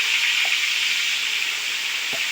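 Chicken frying in a pan over high heat for biryani, a loud, continuous hiss and sizzle close up with a couple of faint clinks and no talking.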